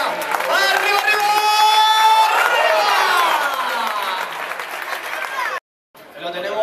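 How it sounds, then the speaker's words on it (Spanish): Spectators at a 2017 bullfight in Aranjuez clap and cheer loudly as a dense, continuous crowd roar with shouts and whistles, voices calling over it, cutting out briefly near the end before resuming. "esas palmas más fuerte que se acerca"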